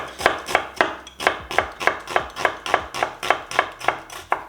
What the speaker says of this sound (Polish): Najpierw kroję ją tak jak widzieliście, przekręcam i drobna kosteczka.